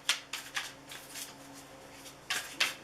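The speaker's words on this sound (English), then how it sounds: "Get your next tarot deck shuffled up here." A tarot card deck being shuffled, with quick papery riffles and bursts of card flutter repeating in an uneven rhythm, close and fairly quiet, with no talking.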